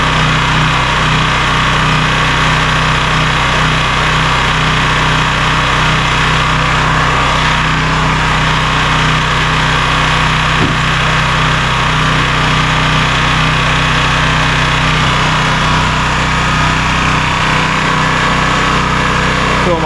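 A Honda EB3000C portable generator runs loud and close for the whole stretch, a constant engine drone with slight unevenness hinting at rough running and surging.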